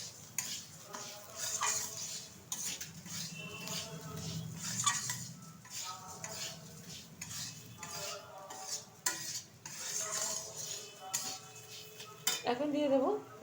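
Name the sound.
stirring rice and lentils with turmeric in a pot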